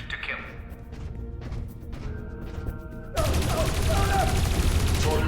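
Guards open fire in the adventure game Dreamfall Chapters, a sudden dense burst of rapid gunshots that follows tense footsteps and low ambience, continuing loud and crackling to the end.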